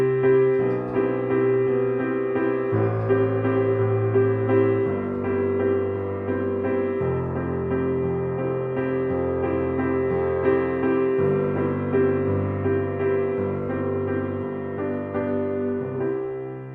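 A solo piano plays a song live in a simplified style, with the left hand holding single bass notes under each chord. The sustained chords change every couple of seconds, close and even, with no voices.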